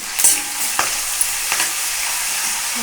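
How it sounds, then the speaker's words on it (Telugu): Spring onion and green chillies frying in a pan, a steady loud sizzle with a few soft stirring scrapes, close up and without voices. "కొంచెం ఫ్రై అవ్వాలి"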